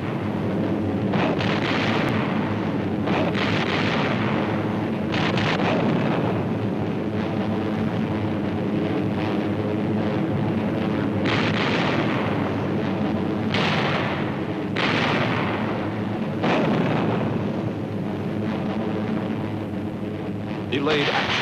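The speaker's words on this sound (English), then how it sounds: "Fragmentation bombs attached to parachutes." Wartime fragmentation bombs on parachutes exploding, a continuous rumbling din of repeated heavy blasts under a narrating voice, with an old, muffled recording quality.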